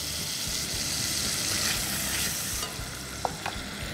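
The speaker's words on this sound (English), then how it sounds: "add the chopped tomatoes and saute on medium heat for 2 minutes" Chopped tomatoes with salt and spices sautéing in a pan over medium heat make a dense, loud, continuous sizzle that eases slightly partway through, with a couple of small utensil clicks near the end and no speech.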